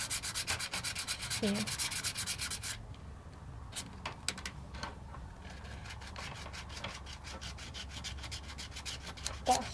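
Close rubbing and sanding as a small scrap of sandpaper is passed over the edges of the grip tape on a Tech Deck fingerboard, with rapid strokes, then a pause before lighter intermittent rubs resume; a brief word is spoken.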